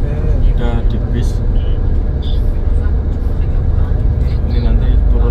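Riding on a bus along the road, a steady loud rumble of engine and road noise from inside the vehicle, with people talking over it.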